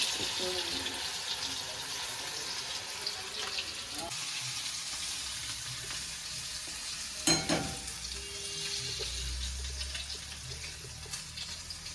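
Alu vadi, rolled colocasia-leaf fritters, fry in hot oil with a continuous bubbling hiss, marked by a sharp clatter partway through and faint low background noise.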